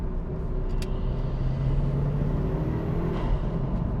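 A 2000 Mitsubishi Lancer Evo Tommi Makinen on the move, its turbocharged engine holding a steady, close low drone with road rumble throughout, no talk over it.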